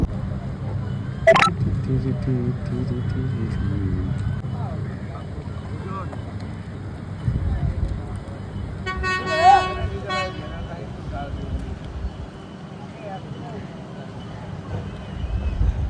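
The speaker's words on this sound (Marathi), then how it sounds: "चलो चलो बोट आ गया." A boat arrives at the Dabhol jetty, sounding its horn in a short early toot and then a longer, clear blast midway, over wind noise and nearby people talking.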